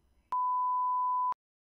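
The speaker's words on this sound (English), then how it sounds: "You may begin preparing after the beep." A single steady electronic test-prompt beep from a TOEFL speaking practice test sounds for about one second, a clean pure tone that starts and stops abruptly against silence.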